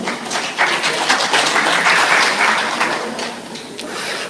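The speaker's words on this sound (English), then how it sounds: "So ladies and gentlemen, give applause to Mr." Audience at an international seminar on Indonesian criminal law reform claps for a speaker being introduced, a loud, dense burst of applause that swells early and gradually thins out.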